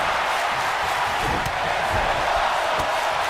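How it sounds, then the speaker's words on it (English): Crowd chanting in the WWE 2K22 wrestling game after a superplex off the top rope inside a Hell in a Cell, a steady roaring arena wash with faint rhythmic thumps throughout. "Crowd chanting, "This is awesome," after the superplex from the top rope"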